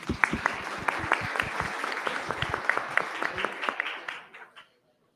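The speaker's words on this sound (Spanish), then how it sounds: "Aplauso." An audience at an international forum on social justice and education applauds, a dense wash of many hands clapping steadily for about four seconds before tapering off into silence.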